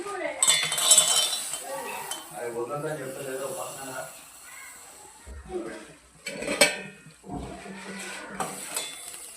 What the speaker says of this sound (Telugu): పల్లీలు ఇలా వేగే వరకు కలుపుకుంటూ వేయించుకోవాలి